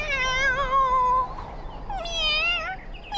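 A cartoon cat meows twice in the animated series Postman Pat, long and wavering, close and clear, with a short pause between the two calls.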